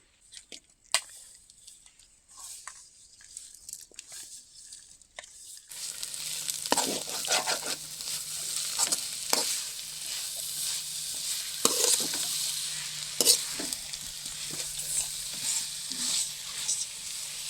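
Pumpkin halwa cooking in ghee with chopped jaggery, stirred in a pan. A few quiet seconds with light clinks give way to a steady sizzle and repeated scraping strokes of the spoon, close and continuous.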